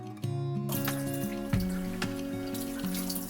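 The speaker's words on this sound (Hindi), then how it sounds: "अब इनको एक बार फिर से हम पानी से अच्छे से धो लेंगे" Potatoes being rinsed clean of soil in a kitchen sink, with running tap water splashing and trickling steadily throughout, close and fairly loud, with no talk.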